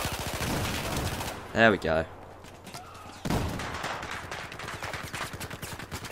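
Rapid bursts of automatic gunfire from a Battlefield 4 match, loud and near, with a few sharp single shots and a brief pause before firing resumes, while someone talks briefly over the shooting.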